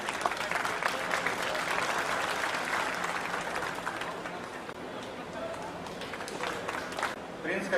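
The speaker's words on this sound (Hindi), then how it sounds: "जोरदार तालियों के साथ आप इन बच्चों को हौसला अफजाई करें।" An audience at an annual award ceremony claps steadily and loudly throughout, a dense sustained wash of applause with some crowd noise mixed in.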